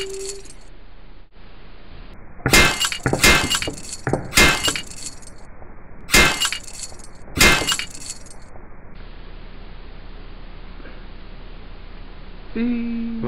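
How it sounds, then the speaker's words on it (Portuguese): A vase is smashed by a kicked football in a children's comedy scene, producing a series of sharp crashes with glass-like shattering and clinking shards spread over several seconds amid quieter background noise. "Vocês quebraram meu vaso."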